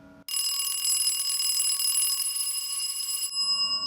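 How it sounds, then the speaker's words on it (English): Electric bell driven by a simple timed ringer circuit rings loudly and continuously for about three seconds, a steady metallic clangor with sharp start and abrupt stop, heard close and alone. "Ah, yes, a bell ringer."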